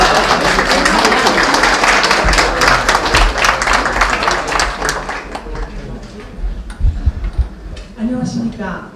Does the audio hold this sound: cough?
no